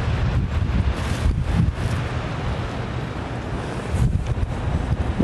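Strong wind blowing outdoors in northern Delaware, a loud continuous roar buffeting the microphone with gusts swelling and easing throughout.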